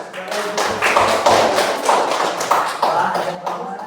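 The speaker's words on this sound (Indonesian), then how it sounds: "sambil ngasih tepuk tangan." Students in a classroom clap for a student group's presentation, a dense, fairly loud patter of hands with uneven bursts over about four seconds.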